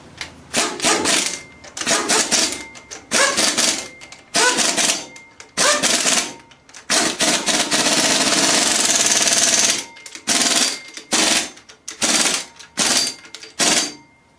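Repeated bursts of a power impact tool tightening the flywheel bolts on a Ford 302 engine during a rear main seal repair, loud and close, with short choppy rattling runs and one longer sustained burst in the middle.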